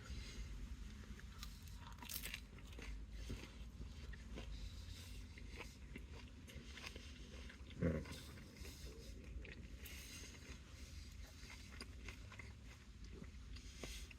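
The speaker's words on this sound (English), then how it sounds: "So this is the last bite here." Someone bites into the last piece of a sandwich and chews, one soft crunch standing out midway through quiet, muffled mouth sounds against a steady background hum.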